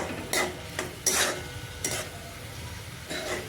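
Indian-style masala pasta is stirred in a pan, with a handful of separate scraping strokes spaced irregularly over a quiet low sizzle. The sound is close and moderately loud, with no talking.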